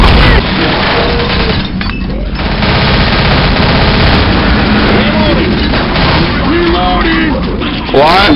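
Rapid, loud automatic gunfire with booms in the zombie shooter Left 4 Dead, near-continuous bursts from the game with excited players talking over the din.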